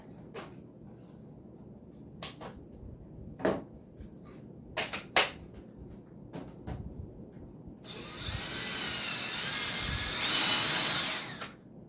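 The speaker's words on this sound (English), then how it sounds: "So we'll drill this." A power drill whirs in a sustained, loud burst near the end, after several short clicks and knocks from handling tools nearby.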